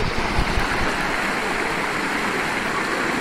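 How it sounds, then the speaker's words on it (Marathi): Cold water rushes and splashes as a group walks through a stream near Ambewadi Waterfall at an agro-tourism resort. The broad, loud wash is continuous and dense, and no voices come through. "आता पाण्यामधून चाललो आहे"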